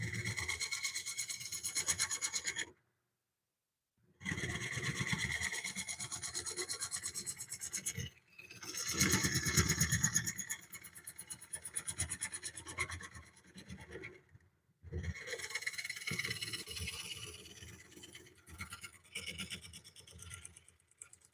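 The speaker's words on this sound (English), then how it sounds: "I'm just using a scraper very lightly" Scraper lightly cutting a wooden bowl on a lathe, a soft continuous rasping in long passes broken by brief pauses of silence, close and moderately quiet.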